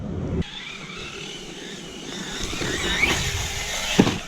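A Hobao 8SC RC truggy, the TT version, on a bi-cross track, its nitro engine held at full throttle as a steady high-pitched whine that rises and gets louder toward the end, with a brief sharp knock near the close.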